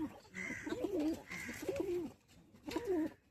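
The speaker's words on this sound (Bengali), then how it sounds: "পায়রাগুলো শখ করাচ্ছি।" Pet pigeons kept by a hobbyist coo in three distinct rolling bursts, each a wavering throaty phrase, fairly faint with short pauses between and a thin whistling tone behind.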